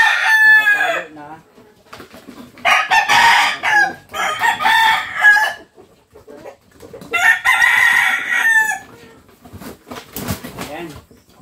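Labuyo wild junglefowl roosters crow loudly and close in repeated long calls separated by pauses, with clucking and rustling in between.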